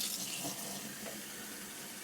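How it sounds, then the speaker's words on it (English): Water runs steadily from a kitchen sink faucet into a sink fitted with an Insinkerator Badger 5 garbage disposal, a continuous close broadband hiss with no talk. "Let's get a little water running here."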